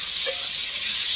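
Rinsed spice paste sizzles in a hot pan over a wood fire, a steady close hiss with brief spits and no talk.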